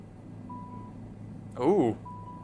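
Rescue locator beeps from a search-and-rescue mission in Microsoft Flight Simulator 2024, flown in a Bell 407 helicopter: a steady thin tone sounds under a cabin hum, then a short loud burst of game sound cuts in before the tone resumes.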